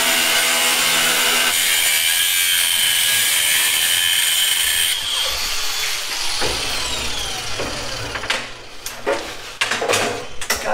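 Continuous harsh sawing and grinding of a tool cutting out a metal bracket on an off-road wrecker, shifting pitch midway, then ending in scattered clanks and scrapes.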